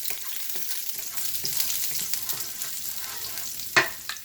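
Garlic frying in hot oil in a pan for a vegetable stir-fry, a steady bright sizzle with a few soft stirring knocks and one sharper clatter near the end, close and alone.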